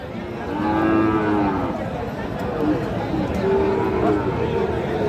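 Cattle low in a busy weekly livestock market in Dinajpur, Bangladesh, where Friesian and crossbred bull calves are traded; several drawn-out moos rise over a steady crowd murmur and chatter nearby.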